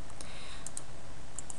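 A few crisp, light mouse clicks in Excel while formatting a bar chart's horizontal axis, spaced irregularly over a steady faint background hiss, with no talking.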